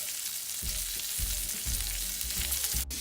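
Fish fries in browned butter in a pan, a steady close sizzle with crackling pops throughout.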